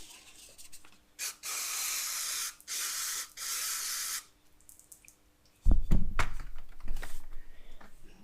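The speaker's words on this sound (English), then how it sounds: "And we'll give it a quick brake clean." Several close bursts of brake cleaner aerosol hiss onto a Range Rover L322 brake caliper in a garage, three sprays of varied length followed by metallic knocks and handling clatter, no talk.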